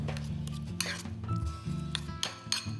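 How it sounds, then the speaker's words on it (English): A spoon stirs and mashes guacamole with garlic powder in a bowl, making repeated clinks and scrapes against the bowl over a low, steady background hum. "We're going to stir and mash the guacamole."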